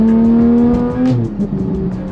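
A sports car engine revs hard and then drops sharply as a gear change goes through, loud and close, with a brief rasp and pops before the revs climb again.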